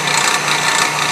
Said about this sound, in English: it'll drill in as you go down